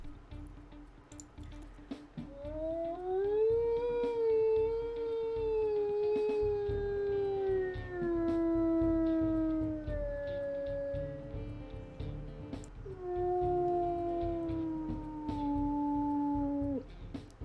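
A wolf in WolfQuest Anniversary Edition gives long, low, sliding howls, a sustained call, a short pause, then a second howl, clear and fairly loud over soft ambient game background.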